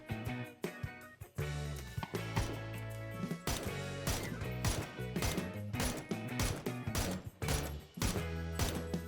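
Rapid bursts of gunfire in the video game PUBG, with booming low impacts, shots fired in quick clusters and repeated volleys, loud and continuous with no speech.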